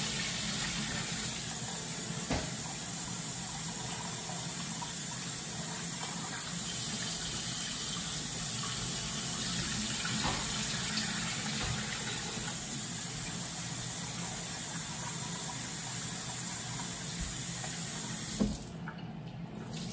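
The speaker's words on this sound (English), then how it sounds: "Gotta wash your rice" Rice being rinsed under a running kitchen tap, a steady continuous splash and flow of water into a sink lasting throughout, close and fairly loud, with a brief clatter near the end.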